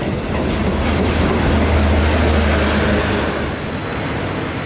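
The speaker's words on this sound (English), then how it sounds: "the train is entering Kempas Bahru railway station" A train rumbles loudly along railway tracks entering Kempas Baru railway station in Malaysia, with a steady roar and faint rhythmic clatter, close by and continuous.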